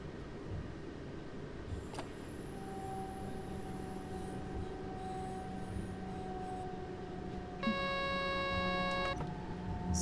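A DB BR 425 electric regional train in a train simulator on the Pfälzische Ludwigsbahn rumbles steadily along the track with a sustained motor whine, then a sharp electronic tone cluster sounds near the end.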